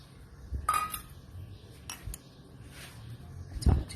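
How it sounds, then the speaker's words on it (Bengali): A spoon stirs oil through mango pickle in a container, giving a few soft scattered clinks and scrapes against a quiet background. "চামচের সাহায্যে নেড়ে দিচ্ছি যাতে সুন্দর করে তেলটা নিচে চলে যায়।"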